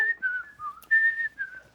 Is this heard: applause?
no